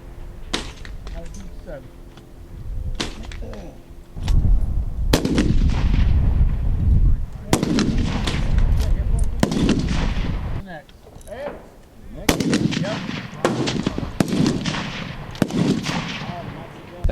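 Sharp rifle shots from a Savage Axis at a 600-yard shooting match crack out repeatedly, a dozen or more distinct reports spaced irregularly with echoing tails, some near and loud, others fainter from neighbouring shooters.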